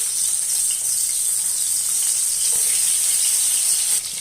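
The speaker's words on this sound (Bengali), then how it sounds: "এবার আমরা চিংড়িগুলো দিয়ে দেবো। দেখো, চিংড়িগুলো দিয়ে দিচ্ছি।" Prawns hit hot mustard oil in a wok, producing a loud, continuous bright sizzle with faint stirring underneath and a brief dip near the end, no talking.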